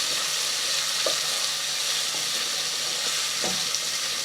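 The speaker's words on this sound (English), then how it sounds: "So you keep mixing your onions until they turn brown." Onions for pilau fry in a pot with a steady, dense sizzle, broken by a few soft scrapes from stirring.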